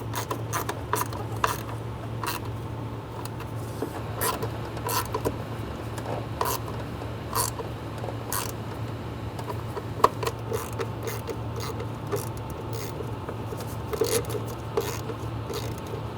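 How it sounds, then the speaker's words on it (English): A ratchet snugs down bolts on a 2003-2008 Honda Pilot engine during a timing belt and water pump job, giving repeated quick clicking bursts at an irregular pace over a low steady hum, close and fairly quiet. "Go around and snug down all the bolts."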